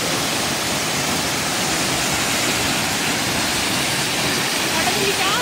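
Changey waterfall in Neora Valley pours in a steady, dense roar of rushing water, close and continuous with no break throughout.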